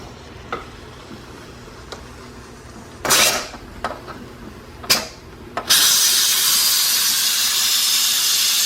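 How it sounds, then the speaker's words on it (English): A pressure canner full of meatloaf is quick-released, a few short sharp steam bursts followed by a loud, continuous, steady hiss of escaping steam, close by. "Let's do a quick release."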